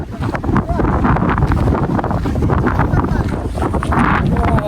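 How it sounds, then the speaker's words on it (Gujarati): Strong wind buffeting the microphone on an exposed mountain trek, loud continuous rumbling gusts throughout, with a voice talking underneath. "પવન એટલો કે મારે તમને બોલી સંભળાવું કેમ"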